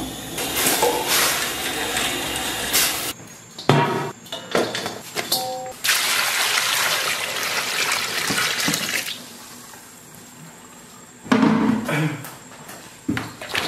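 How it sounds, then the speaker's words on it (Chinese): Chili peppers rinsed under a running tap, with a steady rush of water broken by splashing and handling as the flow changes, stopping briefly partway before resuming. "辣椒给它好好洗一下"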